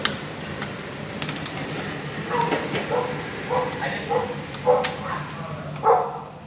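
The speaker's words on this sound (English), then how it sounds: "And there's dogs barking." Several dogs bark outside, heard through an open door from a moderate distance. The short barks come in clustered bursts over a few seconds, and background talking is faintly present.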